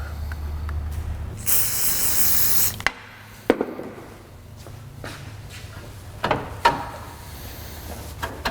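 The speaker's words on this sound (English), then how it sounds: "Silicone spray, I'm hoping is going to be my friend" One sustained hiss of silicone spray from an aerosol can, about a second and a half long, while working on an old truck, followed by clicks, knocks and handling sounds.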